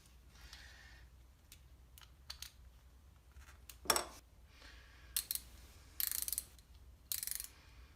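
Screws are driven into a Snap-on ratchet during restoration, giving faint, close metallic clicks, scrapes and brief ratcheting bursts scattered over quiet pauses, with no talking.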